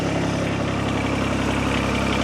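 A turbocharged Kubota BX tractor engine idles under governor control, a steady close mechanical hum with an even pulsing throb and no change in speed.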